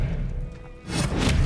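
In Hogwarts Legacy, casting the Expelliarmus disarming spell gives a muffled thud followed by a quick, hissing whoosh and impact, loud and close, lasting just over a second.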